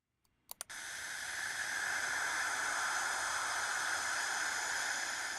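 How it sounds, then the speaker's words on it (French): Cassini radio recording near Saturn of hiss produced by charged particles: after a couple of brief clicks, a steady, even broadband static hiss rises and holds unchanged for several seconds, with no voices. "Ce sifflement est produit par des particules chargées dans l'environnement."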